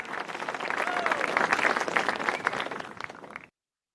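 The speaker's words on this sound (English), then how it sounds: "You can applaud." Applause from a live-stream reaction effect plays as a steady burst of crowd clapping for about three and a half seconds, then cuts off abruptly.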